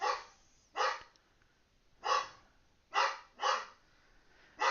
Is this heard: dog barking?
yes